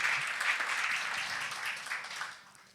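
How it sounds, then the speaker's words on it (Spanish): Faint, distant audience applause at a church gathering, a brief, thin patter of clapping that fades toward the end, with no voices over it. "Para ellos un aplauso también desde Flor Amarillo"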